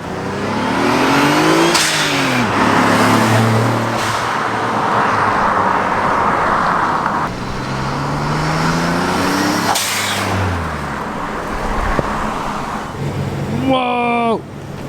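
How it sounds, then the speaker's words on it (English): Car drive-bys with blow-off valves and exhaust: the engine rises and falls as it passes close, with rushing hiss and throaty exhaust in repeated sweeps. Voices are heard near the end. "How about we do some drive-bys with the blow-off valves and the exhaust?"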